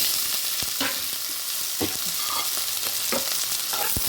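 Onion and carrot pieces frying in hot oil with tempering spices, a constant loud sizzle broken by occasional sharp scrapes of a spoon stirring the pan, no voices.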